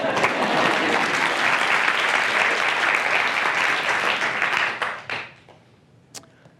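A lecture audience at a UCSF Last Lecture breaks into loud, sustained applause, dense clapping that holds steady for about five seconds before fading out, followed by a faint stray clap.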